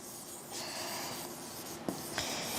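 Chalk or marker strokes on a board during a physics lesson, a faint scratchy rubbing that runs in short bursts with a couple of sharp taps, heard alone in a quiet room.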